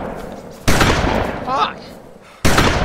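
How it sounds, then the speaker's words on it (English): Loud gunshots crack out in a zombie video game, one blast near the start and another near the end, over constant game noise, with someone shouting in between. "Gunshots, where you at?"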